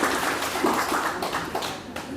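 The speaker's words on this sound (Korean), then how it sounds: "박수 한번 주세요" Applause from an audience at a university student training lecture on video filming: a dense, steady patter of clapping that runs the whole short stretch at moderate loudness.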